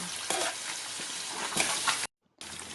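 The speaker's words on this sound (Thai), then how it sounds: "ผัดต่อคลุกเคล้า" Duck red curry stir-fried in a hot pan with holy basil and kaffir lime leaves, a steady sizzle broken by scraping stirs and splashes, close and alone before a brief dropout.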